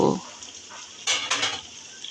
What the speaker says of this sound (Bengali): মশলাগুলো কিছুক্ষণ ভেজে নেওয়া হয়ে গেলে এবার আমি ম্যারিনেট করে রাখা মাংসগুলোকে দিয়ে দেব।